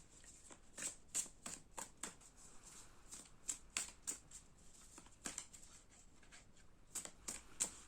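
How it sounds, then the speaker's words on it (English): A deck of cards is shuffled for a pick-a-card love reading, with quiet, close, crisp snaps and riffles coming in an irregular series of sharp clicks over a hushed room. "so we'll shuffle live."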